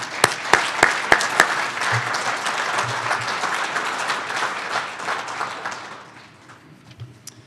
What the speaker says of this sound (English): So one more round of applause for Lester.